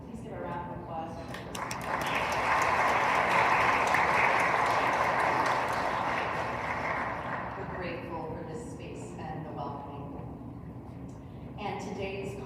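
An audience applauds at a string orchestra concert inside First Presbyterian Church, the clapping swelling into a loud sustained wash before fading, with a voice speaking before and after it.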